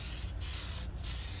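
A spray paint can hissing in two short, close bursts, each a loud airy spray separated by a brief pause.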